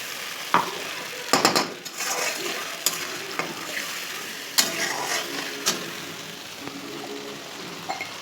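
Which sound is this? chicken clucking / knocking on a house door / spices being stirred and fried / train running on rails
spices being stirred and fried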